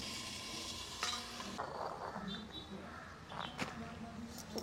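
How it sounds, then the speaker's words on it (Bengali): Crab with potatoes and greens sizzles and fries in a pan as it is stirred, with continuous crackling and occasional scraping sounds close by while someone talks. "ভালো করে একটু কষিয়ে নেব।"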